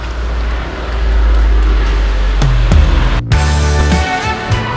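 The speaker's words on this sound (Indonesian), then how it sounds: "Men, masukin mobil ke basement." An old car rolls into a basement garage, its low engine rumble steady and close, with a couple of short knocks and shifts near the end as it moves inside the enclosed space.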